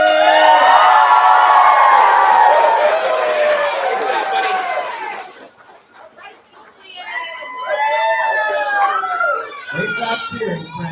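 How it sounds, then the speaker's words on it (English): A crowd of young children at a K-2 elementary school assembly cheers and shouts together, many voices loud and close. The noise dips briefly midway, then swells again. "Great job cheering, friends."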